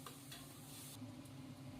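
Diced shiitake mushrooms stir-fry over low heat in a wok, giving a faint, steady sizzle with a few light scrapes and taps of the utensil. No one speaks.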